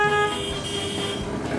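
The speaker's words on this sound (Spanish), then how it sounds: "Empezamos con la bocina." A taxi's car horn sounds in a brief, loud, steady toot inside the city, cut short after a fraction of a second, followed by low road and engine noise.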